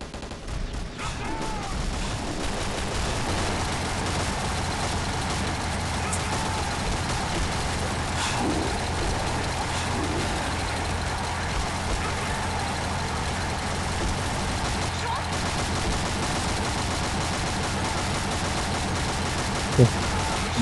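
A purple Gatling gun in a video game fires in a dense, continuous rapid stream, a loud unbroken rattle of shots layered over steady engine-like rumble, with a voice talking underneath.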